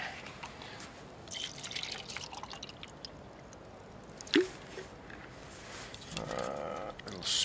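Liquid is splashed into a small pot of hot chocolate heating on a mini alcohol stove on a winter walk: a quiet, brief splash and drip amid soft outdoor background noise.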